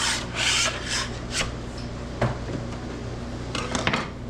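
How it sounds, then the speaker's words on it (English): A scraper rasps across a wooden butchering table to clear away moose meat particles, in repeated close, gritty strokes, heavier at the start and again near the end. "Then I got to scrape my table"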